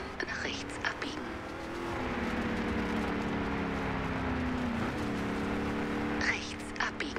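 A game car drives in Forza Horizon 2 on Storm Island during a US Street Muscle Championship event, with a steady engine drone that rises and holds under faint speech.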